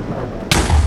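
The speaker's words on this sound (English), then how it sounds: "Should we just not bother with the cannon? And use the TNT for in there? Just to blow our way through." A TNT cannon in the Minecraft video game fires with one sudden, loud blast that cuts in over a low rumble and rings on briefly.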